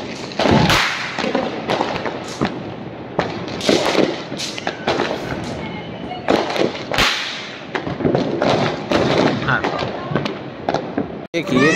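Diwali firecrackers burst in loud, sharp back-to-back cracks and bangs across the whole stretch, some close and some further off, with people talking and shouting between the blasts.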